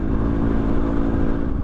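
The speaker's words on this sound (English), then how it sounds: "Listen to all those revs, not a lot of freaking go." Yamaha WR250R dirt bike revving hard while bogging in desert sand, a steady, buzzing high-rpm engine drone, loud and close, with no speech over it.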